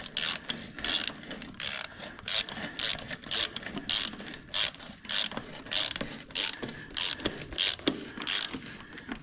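A ratchet wrench snugs a 15/16 bolt during brake work on a U302 vehicle, its rapid pawl clicking in repeated short bursts with brief pauses between strokes, close and fairly loud.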